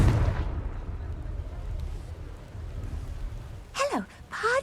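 Confringo blasting spell going off in Hogwarts Legacy, a short low burst at the start followed by a rumbling low wash and bright whooshing magical streaks near the end.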